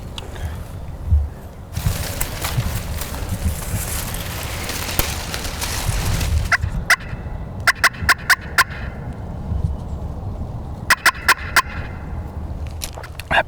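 Wild turkey gobbling in cedar woods during a Southern hunt, a loud burst of gobbles followed by several sharp, repeated calls in clusters, fairly close and clear over quiet outdoor background.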